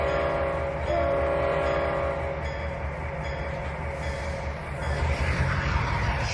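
A train moving forward in the railway simulator game Trainz 2019, a steady loud engine drone with rumbling wheels and a brief rise in power toward the end, heard alone.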